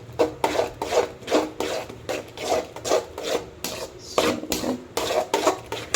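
Repeated scraping and rubbing strokes of a spoon stirring sooji upma in a pan, fairly close and rhythmic, about two strokes per second with no talking.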